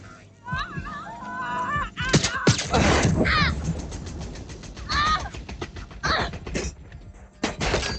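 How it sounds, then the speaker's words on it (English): Gunshots in the video game Watch Dogs Legion, several sharp bursts of gunfire rising from a tense backdrop, mixed with shouting voices and other loud noise. "They're shooting!"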